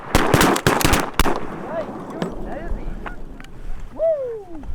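During a Colorado goose hunt, a rapid volley of loud, close shotgun blasts is fired at geese. It gives way to scattered softer pops and a few goose honks as the shooting dies down.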